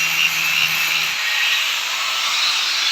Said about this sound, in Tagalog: nagagrind na po ng ano, lagayan po ng windshield